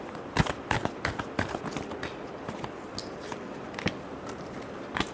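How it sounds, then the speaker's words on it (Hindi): Tarot cards being shuffled close by, a quiet run of soft, crisp slaps and flutters with sharper snaps scattered through, no voices heard. "last shuffle"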